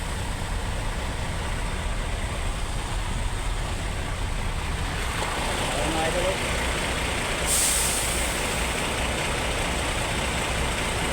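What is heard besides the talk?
heavy traffic with trucks idling and air brakes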